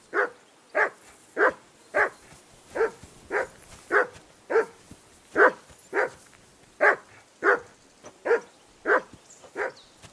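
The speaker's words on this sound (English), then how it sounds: "I assume you can hear that damn dog of yours barking." A dog barks in the medieval video game Kingdom Come: Deliverance 2, steady single barks repeating about every half second to second for ten seconds, fairly loud and close, with no talking over them.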